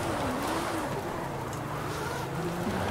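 A Nissan 350Z engine drones continuously in Forza Horizon 5 as the car drifts through a snowstorm, its pitch wavering up and down under steady wind or snow noise.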